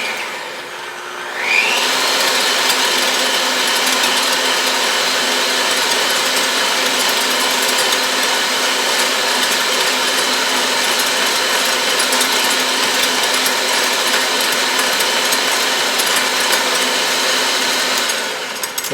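An electric hand mixer whips egg whites in a bowl. Its steady, loud motor whine starts after a moment and holds evenly for nearly twenty seconds, alone and without speech.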